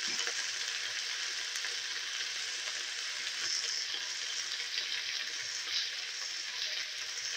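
Potato and okra pieces fry in a pan with a steady, even sizzle that stays close and fairly quiet, with no voices over it.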